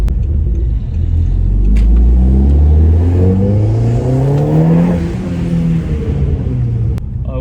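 Stage 3 Audi S3 tuned to 460 bhp with methanol injection, R8 coil packs, upgraded intake and intercooler, accelerating hard through the gears: a loud, continuous engine roar rising in pitch with several gear changes, heard from inside the car with no talk.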